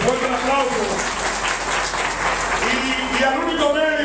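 Applause at a gathering of carnival participants ahead of the Santo Domingo Este carnival, a steady wash of clapping from the crowd running beneath someone talking over it.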